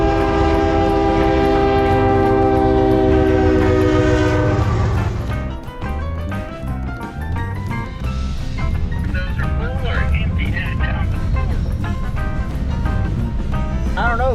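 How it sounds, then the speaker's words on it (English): A train horn blares long and loud, then a train rumbles past nearby with clattering rail cars and squealing wheels; talk is faintly present. "we were having to take a wait for a train to pass"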